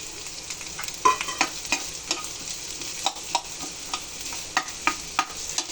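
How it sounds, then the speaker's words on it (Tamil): Onions fry in oil in a pan for a Spanish omelette under a steady soft sizzle, while a spatula scrapes and taps the pan in a fairly regular stirring rhythm, a dozen or so strokes. "பேனில் கொஞ்சம் எண்ணெய் ஊற்றிட்டு வெங்காயத்தையும் போட்டு நல்லா வதக்கிக்கோங்க"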